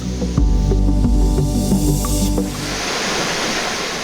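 Rushing water from one of the many waterfalls around Faxinal, a steady broad roar that sits behind musical tones early on, then continues alone at a constant, fairly loud level.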